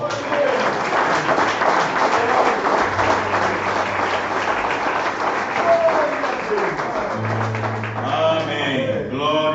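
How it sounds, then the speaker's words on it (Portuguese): A church congregation applauding during a worship service, a dense, sustained wash of clapping from many hands with a speaker's voice carrying over it. "É a salva de palmas logo do Senhor"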